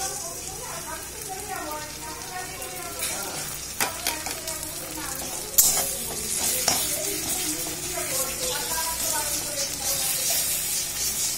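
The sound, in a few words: stirring mutton curry with ginger paste in frying pan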